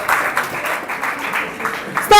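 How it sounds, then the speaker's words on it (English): Audience applause at an International Women's Day event, a steady wash of clapping lasting a couple of seconds and ending in a louder burst, with voices mixed in underneath. "stop clapping"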